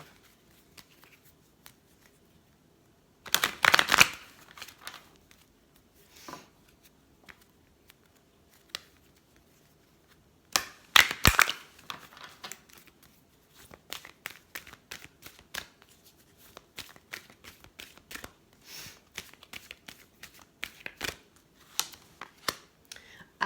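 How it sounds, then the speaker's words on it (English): Wisdom of the Oracle tarot deck being shuffled in bursts, a loud riffle followed by scattered card flicks and taps, close and quiet, with no talking. "I pulled out the Wisdom of the Oracle deck"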